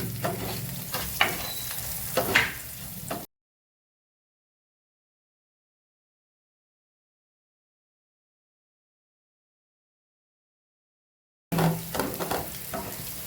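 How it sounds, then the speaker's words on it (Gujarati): Onions sautéing in a pan for a Kathiyawadi finger-chips vegetable dish, a soft steady sizzle with a utensil stirring, heard alone before a long silent gap and again after it. "ડુંગળીને આપણે થોડી સાતડી લેવાની છે।"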